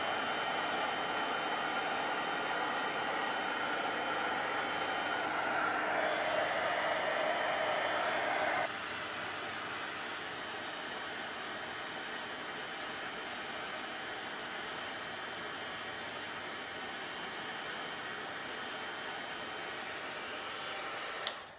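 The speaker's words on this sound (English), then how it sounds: "And I just need to quickly heat set those wings." A heat tool blows steadily for about twenty seconds as it heat-sets art journal wings, a loud, even, breathy roar that shifts slightly in pitch partway through and stays alone with no talking.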